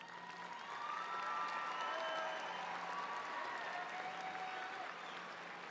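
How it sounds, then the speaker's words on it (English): A crowd at a high school graduation ceremony applauds steadily with scattered cheers. The clapping is dense and sustained, heard from a distance at low volume. "Let them hear your gratitude tonight with a final round of applause."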